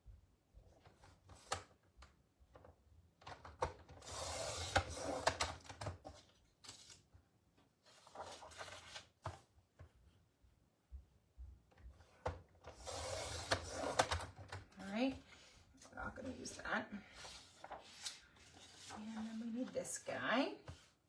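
Sheets of paper are trimmed down to 11 by 11 inches with a cutter, giving two or three short, rough slicing bursts separated by quieter handling noises, with a voice talking in between.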